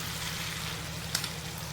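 Potato curry cooks in hot oil just after tempering, with a continuous close sizzle and a low steady hum beneath it, one brief louder crackle near the end and no voices.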